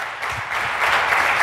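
A church congregation claps during a sermon, a dense wash of many hands swelling from moderate to louder over a second and a half, steady and close.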